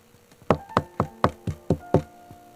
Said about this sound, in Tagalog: Huminga ng malalim si Marilyn bago kumatok.